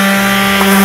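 An electric sander works on a wooden camping chair before oiling, giving a steady, loud motor whine with a strong constant hum and a brief scraping rise partway through.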